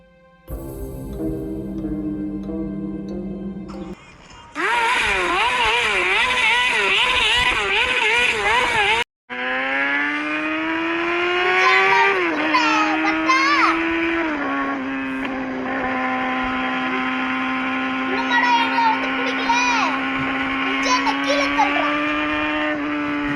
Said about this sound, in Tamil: கீர்த்தி சீக்கிரமா வண்டி எடு